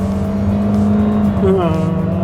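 A 2021 Toyota Corolla Cross 1.8G engine hums steadily at close range, then the pitch briefly dips and rises again as it shifts gear, over the low road noise.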